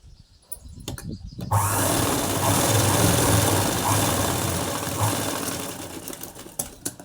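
A sewing machine runs steadily while stitching the front part of a blouse, a continuous close mechanical whir that starts after a short bit of handling noise and holds for several seconds.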